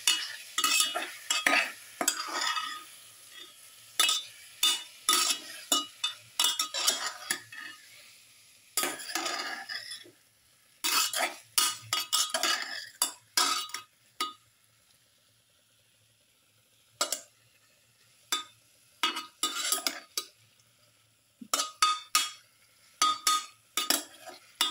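A fish and papaya stew mixture being stirred in a pot, bursts of spoon scraping and clinking against the pan separated by quiet pauses, close and moderately loud.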